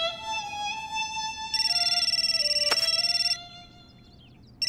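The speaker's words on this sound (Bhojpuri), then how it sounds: "लवली के फोन आ गई माई।" A mobile phone rings with a bright electronic melody of sustained tones that swells louder in the middle, then drops back before cutting off.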